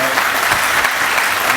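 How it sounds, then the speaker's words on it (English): Audience at a groundbreaking ceremony for a housing resource center claps in a steady, dense burst of applause, loud and close throughout the short stretch. "I think all of us together need to give ourselves a round of applause."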